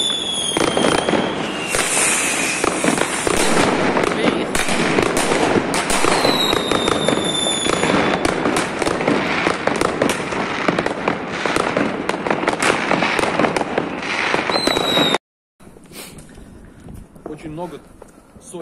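New Year's fireworks and firecrackers going off across a German city, a dense, nonstop crackle of rapid pops and bangs with whistling rockets, loud and close, then a brief cut to quieter scattered bursts and talk.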